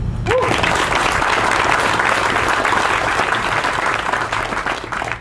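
Audience applause at a U.S. Army garrison change-of-command ceremony at Fort Leonard Wood, a sustained wall of clapping from a large crowd that holds steady and eases slightly toward the end.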